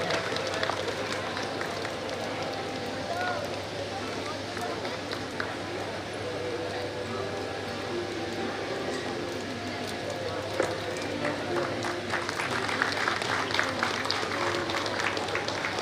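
A crowd at a community award ceremony honouring students claps steadily for about sixteen seconds, a dense, moderately loud patter of many hands that swells slightly near the end, with voices mixed in.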